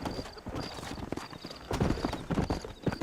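Horse hooves clip-clopping as a rider sets off on the trail in Red Dead Redemption, a quick uneven gait of close thuds growing louder, with a soft whinny-like tone and light ambience.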